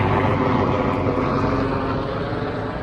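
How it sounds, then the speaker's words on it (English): Rescue helicopter passing overhead, a steady loud rotor and engine drone that fills the whole stretch without a break, with no voices over it. "rescue helicopter that just flew by."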